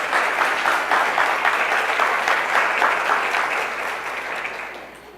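Church congregation clapping together in praise, a dense steady wash of many hands that holds for several seconds, then gradually tapers off.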